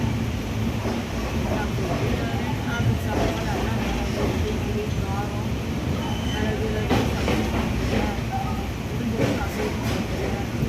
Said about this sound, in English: there are many trains and there is a electric locomotive engine